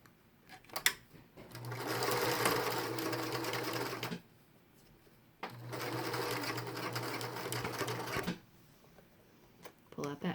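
A sewing machine stitches a fabric face mask in two steady runs of about three seconds each, separated by a pause, with brief handling clicks at the start and end.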